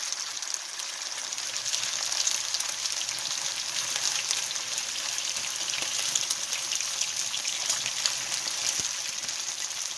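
Chicken pieces for Kung Pao chicken fry in a wok with a steady, dense sizzle of close crackling and spitting oil, even and unbroken, with no voices.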